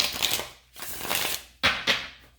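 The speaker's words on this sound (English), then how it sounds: "Getting shuffled a couple times, I feel." Tarot cards shuffle in quick riffling bursts, three distinct rustling passes with short pauses between, close and crisp with no voices.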